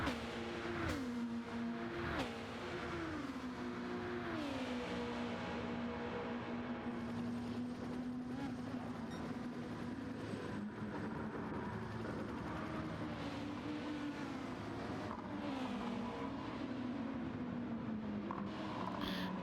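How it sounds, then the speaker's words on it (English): Race cars in the Gran Turismo video game roar around Watkins Glen in a GTO Gr.2 race, engines rising and falling through gear changes, loud and continuous with several cars layered together. "Bird Worden drifts that Caterpillar skid steer car on the pit road out of the 5th place spot"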